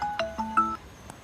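A mobile phone rings with an incoming call, a short melodic ringtone of a few quick electronic tones, close and clear with no talk.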